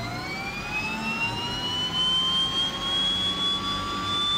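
Engine number 1 of an Aerosoft Twin Otter turboprop spools up in Microsoft Flight Simulator, a steady whine rising in pitch over a constant rushing roar, heard close and alone.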